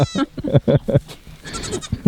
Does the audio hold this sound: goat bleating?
yes